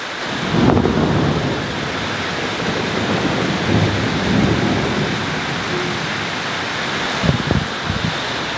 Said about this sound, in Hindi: बादल भी गरज रहा ऊपर।